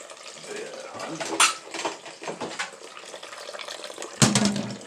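Tap water runs into a kitchen sink while berries are rinsed toward a colander, a close splashing flow with clatters and a louder burst near the end, under light speech.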